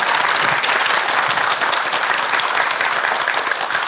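A studio audience at a Korean morning TV talk show claps steadily for a laughter lecture, dense sustained applause filling the room with no break.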